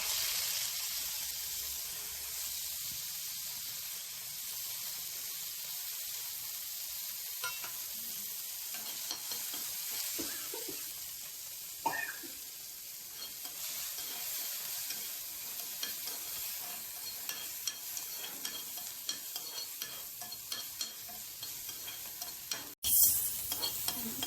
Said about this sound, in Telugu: ఇప్పుడు పుదీనా ఇలా వేయించి తినాలా